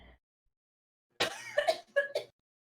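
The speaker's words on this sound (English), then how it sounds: "I'm about to cough again." A few close, rough coughs come in a quick cluster after a short silence, loud and harsh against a quiet room.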